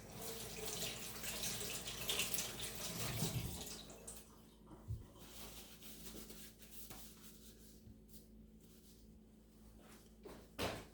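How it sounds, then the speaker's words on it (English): Kitchen tap water runs over hands being rinsed after rubbing seasoning onto seafood kabobs, a steady splashing stream that is loud at first, then softer and broken with small clatters near the end. "I'm gonna rinse my hands off"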